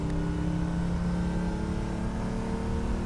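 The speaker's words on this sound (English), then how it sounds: "And how it loves to rev." A 1950 Ferrari 166MM Le Mans Berlinetta engine revs hard, a loud, rasping mechanical roar with layered harmonics that swells briefly and then holds steady, heard close with no speech.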